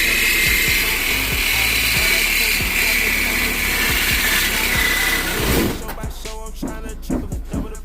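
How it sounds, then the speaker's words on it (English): A reciprocating saw chops loudly and rapidly as it cuts out an old lowboy oil furnace, buzzing close up for several seconds before stopping, leaving clanks and a voice talking. "Knows how to use a sawzall."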